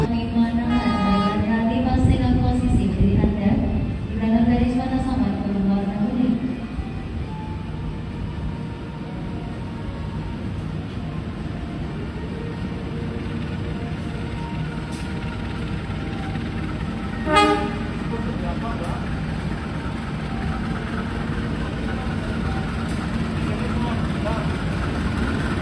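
Passenger train hauled by a CC 203 diesel locomotive on the Jogja–Jakarta line in Indonesia, a horn toot and engine drone near at first, then a steady rumble with a brief sharp sound midway.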